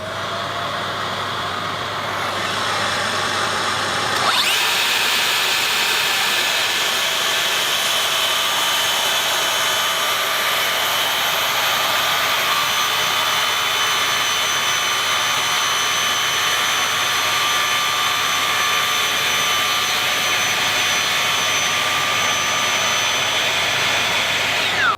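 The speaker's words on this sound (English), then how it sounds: "don't forget to turn your dust extraction on" A track saw with dust extraction running gives a loud, steady motor whine joined by the rushing hum of the extractor, starting abruptly a few seconds in and holding evenly to the end, with no voices.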